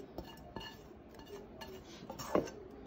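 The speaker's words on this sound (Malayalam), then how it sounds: "നമുക്ക് അതിലേക്ക് നേരത്തെ തയ്യാറാക്കിയ മസാല, ആ ബീഫിന്റെ മസാല ഈ മുട്ടയിലേക്ക് അങ്ങോട്ട് ആഡ് ചെയ്യാം" Beaten egg being mixed with beef masala in a bowl for a beef cake, heard as a few light clinks and taps of a utensil against the bowl, quiet and close, with soft scraping between them.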